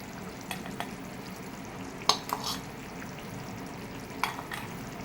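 Roasted spice mix goes into a simmering jackfruit kofta curry, giving a soft, steady sizzle with a few sharp clinks and scrapes of a spoon against the pan, quiet and without talk.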